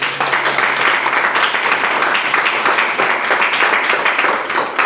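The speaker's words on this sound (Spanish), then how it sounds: "Vamos a dar un fuerte aplauso al Señor." Church congregation applauding during a worship service, loud and steady clapping from a crowd filling the space without a break, with a faint tone underneath.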